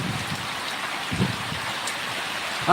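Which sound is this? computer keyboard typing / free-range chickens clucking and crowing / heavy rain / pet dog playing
heavy rain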